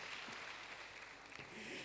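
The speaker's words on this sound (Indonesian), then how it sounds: "Tepuk tangan yang meriah." Church congregation applauding during a sermon, a steady, moderately distant wash of clapping that fills the short moment without a break.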